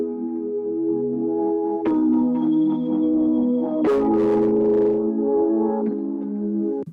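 Music track with an extreme EQ boost applied to one band: sustained layered tones and chords with a shift partway through, where the sound turns brighter and fuller, steady and loud with no voices.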